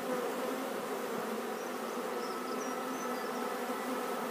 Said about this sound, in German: Ich entnehme also eine bestimmte Zahl Bienen von oben und platziere sie nach ganz unten